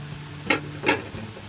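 A spoon scrapes through khoya and chopped walnuts and cashews in a pan while carrot halwa cooks, two short close stirring strokes over a faint background.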